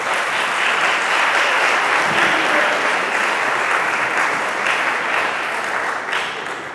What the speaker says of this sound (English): I want y'all to give a round of applause to Senator Paul Lowe.